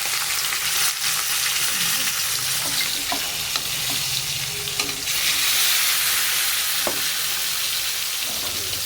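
A rohu fish head frying in oil in a pan, a loud continuous sizzle with occasional scraping stirs, close up and without talk.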